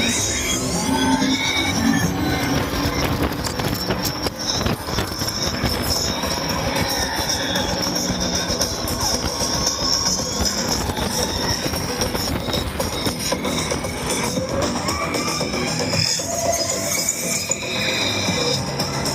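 Loud, steady rumble and wheel noise of the TRON Lightcycle/Run roller coaster at Magic Kingdom, Walt Disney World, with rising high-pitched whine and squeal throughout the ride, no talking.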